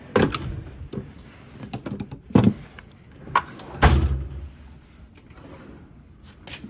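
A metal toolbox drawer slides and knocks in a DIY tool setup, several sharp clunks and rattles of metal tools spread across the stretch, close by with no talk.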